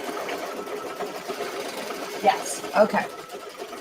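A sewing machine runs steadily through its final stitching, a continuous mechanical whir with brief louder bumps, while a voice speaks softly over it.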